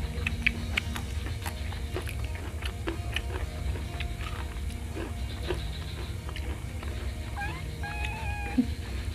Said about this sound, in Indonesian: Kucing guys.